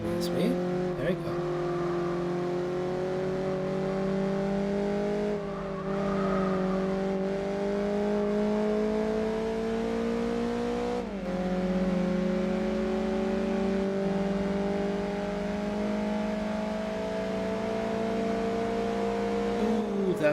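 A race car engine in Gran Turismo 4 drones through a long overtake with a sustained, rising whine that dips briefly at gear changes and keeps climbing close and loud.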